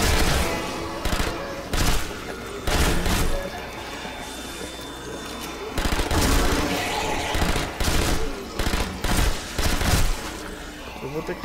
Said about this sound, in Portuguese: Não adianta agarrar o dedo na metralhadora.